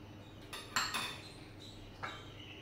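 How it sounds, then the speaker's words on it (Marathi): A spoon scrapes and clinks against a bowl while hot melted ghee is mixed into wheat flour, a few sharp separate clinks and soft scraping, fairly close and quiet, with no voices. "आणि आता तूप टाकलं आहे गरम, म्हणून मग थोडंसं चमच्याने मिक्स करून घेते."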